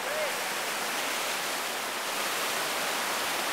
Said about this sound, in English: pretty big whitewater right here